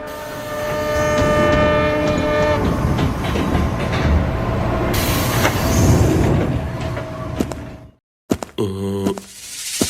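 An animated train pulls into a station, its loud horn blaring with harmonic tones over rumbling, clattering wheels, then a brief silence before a second horn blast near the end.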